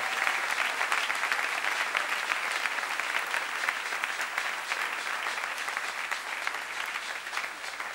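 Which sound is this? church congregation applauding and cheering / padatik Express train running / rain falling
church congregation applauding and cheering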